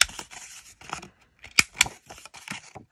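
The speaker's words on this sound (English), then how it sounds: "So let's start off by rounding the corners. I want my larger corner rounder" A larger corner rounder punch snipping paper corners: a few light clicks and rustles, then two sharp, close cuts in quick succession, followed by more soft paper handling.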